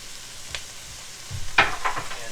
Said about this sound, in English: We're also going to add some onion in here. Let it caramelize.